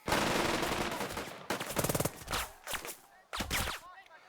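Gunfire in the wartime tactics game Burden of Command, loud bursts of rapid automatic and rifle shots in several clusters with short pauses, fairly close.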